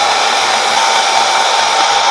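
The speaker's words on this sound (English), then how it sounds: "So I'm just gonna use a blow dry to go in 2 minutes." A hair dryer blows steadily and loudly while drying a lace wig, a constant close-up rush of air with no talking.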